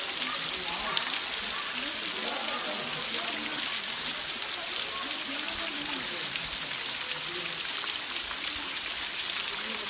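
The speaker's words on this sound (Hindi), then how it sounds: "मेरे पीछे पानी टपक रहा है" Water dripping and trickling down from above near Pandav Fall, a dense constant patter like steady rain on surfaces, loud and close throughout with no pauses.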